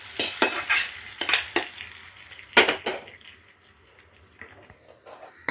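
A dish stirred in a pot with a utensil, several close scraping and clanking strokes in short bursts, then a quieter stretch with a few lighter scrapes.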